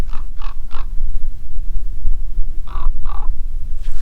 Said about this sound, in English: Oh, crows, my favorite birds.